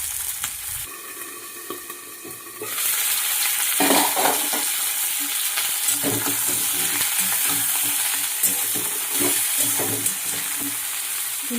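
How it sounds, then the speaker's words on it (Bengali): Cauliflower fries in a pan with a loud, crackling sizzle while it is stirred, giving irregular scraping and tossing bursts over the continuous hiss. No one speaks. "ফুলকপিটা ভাজা হচ্ছে, আর একটু ভাজা হোক"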